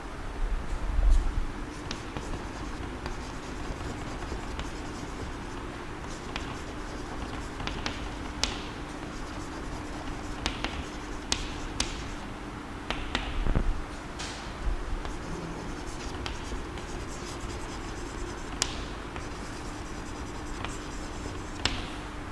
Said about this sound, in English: let us write down the definition of multiples